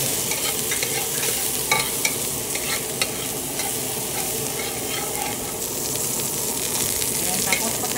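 Garlic frying and being stirred in a pan with shrimp, crab and octopus, a steady loud sizzle with scraping stir strokes running throughout, no voices.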